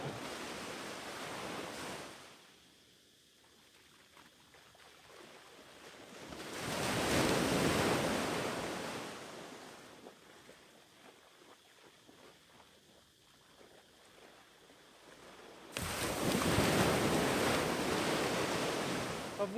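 Ocean waves roll onto a beach in Phuket, with loud surges of surf breaking and receding in two or three swells, with wind noise between them.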